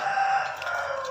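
A spotted dove cooing, a loud, close, sustained hooting call with a low throaty tone over a faint background, alone without speech.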